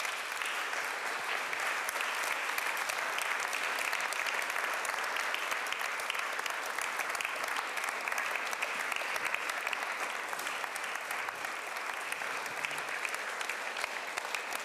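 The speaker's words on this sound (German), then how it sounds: "Applaus, bitteschön." Sustained, dense audience applause fills a German forum hall after a series of talks, steady and even throughout with no gaps, loud and close to the room microphone.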